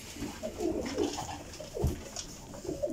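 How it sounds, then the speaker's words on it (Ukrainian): Pigeons cooing at a breeder's loft, several soft throaty coos repeating at moderate distance, with other bird calls and no clear talk. "О, какие голуби"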